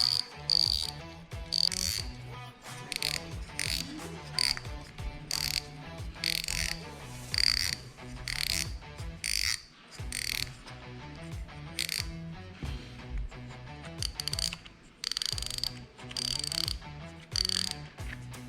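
The cap of a spinning fishing reel is unscrewed by hand, producing rapid close ratcheting clicks in uneven bursts with brief pauses between turns, and no talking over it.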